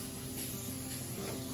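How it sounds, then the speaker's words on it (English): Trader Joe's coconut oil cooking spray hisses from the can in one steady burst lasting under two seconds, close and even, with no talking over it. "All right, I'm going to spray it."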